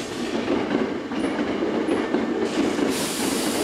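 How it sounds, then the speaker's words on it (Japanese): A Hankyu 8300 series train pulling out of Arashiyama station, with a steady, loud rumble of wheels and running noise lasting throughout and a couple of faint high squeals near the start. "嵐山駅ただいま発車いたします。"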